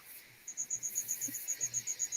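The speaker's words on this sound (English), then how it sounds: "I'm outside and there's a bunch of crickets out here." Crickets chirp outdoors in a steady, evenly spaced train of high pulses, fairly near and clear above a quiet background.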